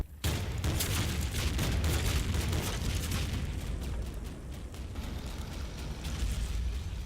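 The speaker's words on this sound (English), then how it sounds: "they are able to suppress the areas with 37mm high explosive" 37mm high-explosive shells burst in a WWII Combat Mission game battle, a dense continuous rumble of overlapping booms and crackling blasts lasting several seconds at steady loudness.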